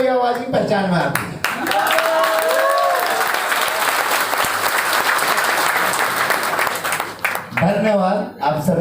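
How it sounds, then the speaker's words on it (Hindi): An audience at a live speech event in Ahmedabad breaks into sustained, loud clapping, with someone talking briefly before and after the applause. "मुझे केवल ताली वाली आवाज ही पहचान में आती है।"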